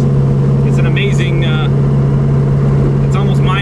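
A 2,000-horsepower Camaro with a Nelson Racing Engines motor, out on Malibu streets, drones loud and close with a steady, heavy engine note, and voices are heard faintly over it.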